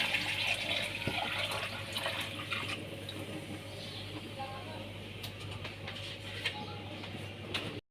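Half a litre of water pours into a cooking pot of fried masala for kadhi pakora, a continuous splashing, gurgling stream that runs steadily before stopping abruptly.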